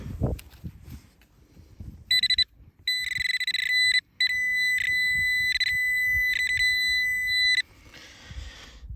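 A metal detector emits a high, sustained electronic tone in several bursts with short gaps, over faint wind and rustling.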